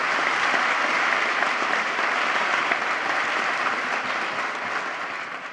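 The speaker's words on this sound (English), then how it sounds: "let's have a round of applause for all of our gracious sponsors" Sustained applause from a large audience at a city State of the City event, a steady, dense clapping that fades slightly toward the end.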